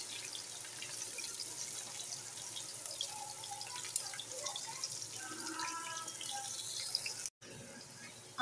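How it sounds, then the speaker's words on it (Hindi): Onions frying in hot oil sizzle with a quiet, steady fizz and scattered small crackles, fairly faint and uninterrupted for most of the stretch. "अब इसमें मैं डाल दूँगी प्याज, और प्याज को हम अच्छे से फ्राई कर लेंगे।"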